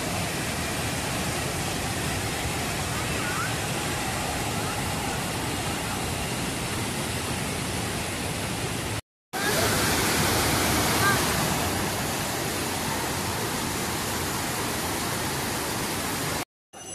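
A waterfall near Ranchi dropping water from 144 feet gives a loud, dense, unbroken roar of falling water, heard up close, with one brief cut partway through.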